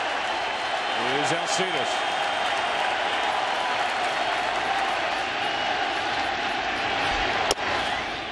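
Baseball stadium crowd at a 2015 World Series game roars and applauds in a steady, dense wash throughout, with a commentator talking over it.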